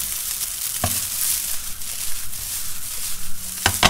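Tuna fried rice with soy sauce is stir-fried in a pan, giving a continuous close sizzle with sharp spatula scrapes near the start and end and no talking.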